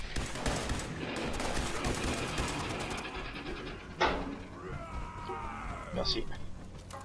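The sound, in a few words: gunfire crossfire in the video game Fallout 76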